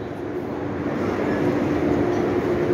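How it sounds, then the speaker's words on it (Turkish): Steady low rumble of trains moving through Berlin Hauptbahnhof, a large station with tracks on several levels, filling the whole stretch at an even, loud level with no talk. "Büyük bir tren istasyonu."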